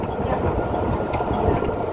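A tram rolls past a stop with a dense, steady rumble and rattle close by, filling the whole stretch without a pause.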